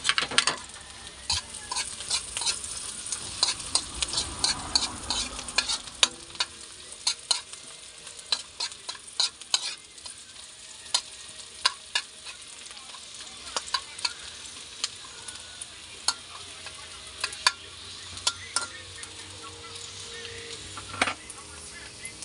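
Beef skin fries and sizzles in a pan with ginger, garlic and onion, a spoon scraping and clinking against the pot in irregular strokes over a continuous hiss.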